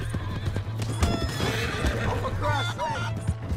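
A horse in Red Dead Redemption 2 clip-clops at a gallop and gives a shrill whinny, close and loud, while someone shouts over the hoofbeats.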